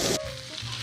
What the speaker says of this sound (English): A nice sizzle, but we're not deep frying it, we're just blackening.